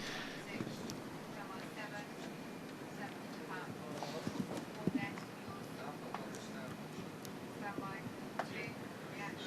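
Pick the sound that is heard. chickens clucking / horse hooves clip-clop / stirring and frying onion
horse hooves clip-clop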